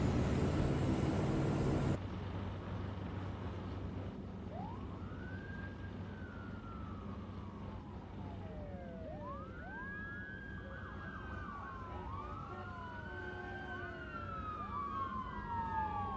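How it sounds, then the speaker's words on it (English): Several police sirens wail in rising and falling sweeps, overlapping as they approach from a distance over a low background rumble, after a brief loud burst of noise. "What was that? Police sirens?"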